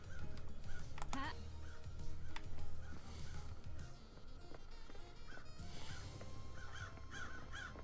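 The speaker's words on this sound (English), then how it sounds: "Ominous crows." Ominous crows caw in the video game Paradise Killer, several harsh calls scattered over steady ambient game sound, with some buzzing and honk-like tones mixed in.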